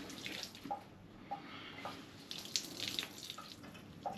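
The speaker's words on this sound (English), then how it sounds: "what I'm going to do now is thoroughly wring it out, so it is no longer wet" Water is wrung out of a wet tea towel into a bowl, producing quiet splashes and drips in irregular bursts close by with no talk.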